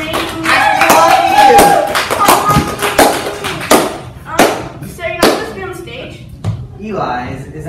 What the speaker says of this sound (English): let's all give him a round of applause for his amazing work